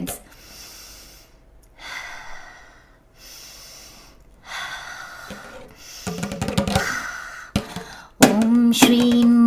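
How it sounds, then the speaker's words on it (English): People in a guided meditation breathe in slow, deliberate breaths, long airy inhales and exhales alone and close, then louder sharp snort-like breaths near the end. "Breathing, friends."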